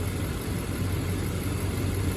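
A car engine idles steadily nearby with a continuous low rumble and a faint higher whine, even and unbroken throughout with no talking.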